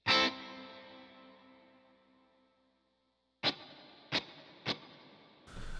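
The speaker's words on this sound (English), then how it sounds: "So the plate reverb is a little long," An electric guitar chord through a Line 6 Helix plate reverb rings out and decays slowly in a long, smooth reverb tail, followed by three sharp plucked notes, each with a shimmering echo.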